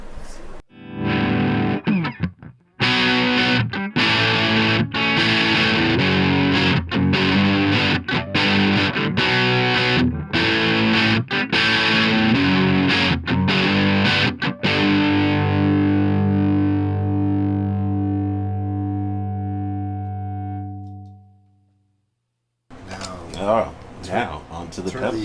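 Heavily distorted electric guitar through a cranked amp with no pedal, loud chugging strums and stabs, then a long sustained chord that fades out before a brief noisy tail.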